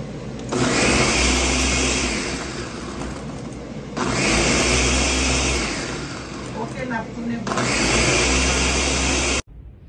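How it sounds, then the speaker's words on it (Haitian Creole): Soursop cream with milk, sugar and essence whirring loudly in a blender in three long bursts, each running a few seconds with brief pauses between, the motor note steady and close. "Ok, pour nous allons blender."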